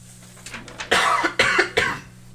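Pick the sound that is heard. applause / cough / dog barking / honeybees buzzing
cough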